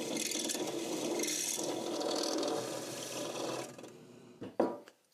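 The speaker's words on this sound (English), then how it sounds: "I do have a 7/16 inch step bit. So time to break out the step bits." A step bit drills a 7/16 inch hole in a tube bass preamp prototype, giving a steady grinding, rasping whir for several seconds before slowing into a few faint scrapes and a small clunk.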